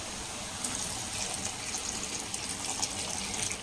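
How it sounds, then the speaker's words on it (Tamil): Water pouring into a clay cooking pot while vegetables are prepared, a steady broadband splashing gush that runs continuously at moderate, close level with no talk. "மிக்ஸ் பண்ணிட்டதுக்கப்புறம் தண்ணி வந்து சேர்த்துக்கலாம்"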